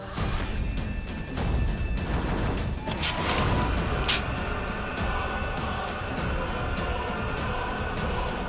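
Gunfire erupts in a tense drama scene, with bursts of sharp cracks and crashes over a dense, loud background of noise and commotion throughout.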